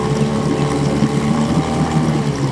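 A 1957 Evinrude Fleetwin outboard motor idles steadily up close, a constant droning hum with a slight rhythmic throb and no pauses or voices.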